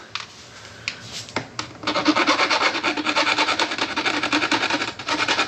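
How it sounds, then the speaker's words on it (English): A hand file rasps back and forth in quick, steady strokes filing down a metal burr, preceded by a few separate scrapes; close and fairly loud, no talking. "so we'll just go ahead and we'll just quickly file her down"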